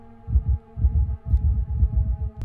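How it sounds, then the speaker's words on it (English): Game heartbeat effect from The Walking Dead Destinies: a steady, heavy double-thump pulse, about two beats per second, deep and close over a low hum. "All he can hear is the sound of his heart beating."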